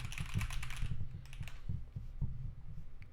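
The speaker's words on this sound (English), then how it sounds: "Is that my typing?" Rapid keystrokes clatter on a computer keyboard, a burst of crisp clicks followed by slower taps over a low, thudding undertone that rises as the typing continues.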